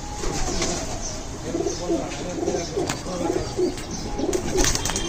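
Flying pigeons from a champion racing loft give repeated low, bubbling coos in short bursts against steady outdoor background noise, with a few faint flutters and no talk.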